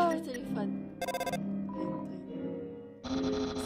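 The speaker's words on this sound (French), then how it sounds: "C'est le téléphone." A telephone rings in the Undertale video game, in short bright bursts of trilling tone between game music and French-speaking players chatting.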